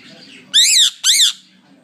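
Two loud, harsh squawks from an Indian parrot, each about a third of a second long, come close together with a short gap between them, over a faint low background hum.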